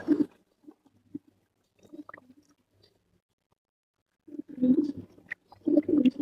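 Pigeons cooing nearby, a few soft, low, throaty calls separated by quiet gaps, then louder, fuller coos toward the end.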